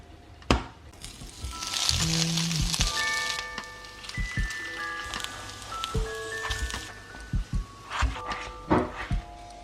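Ghee heating in a frying pan gives a faint, steady crackling sizzle with scattered pops, close by and quiet, with some kitchen clatter and no talk.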